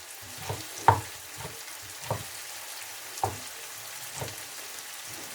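Chopped tomatoes frying in a pan for a chicken and vegetable curry, a soft steady sizzle with periodic stirring clinks and scrapes roughly once a second, close and fairly quiet.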